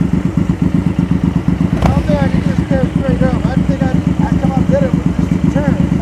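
A motorcycle rolls through slow-speed riding practice, its engine throbbing in a steady, close, even pulse for the whole stretch while voices talk over it.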